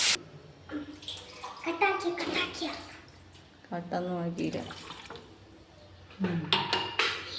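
About a cup and a quarter of water is poured into a pan for Maggi noodles, splashing with clinks of cookware, while a person talks over it.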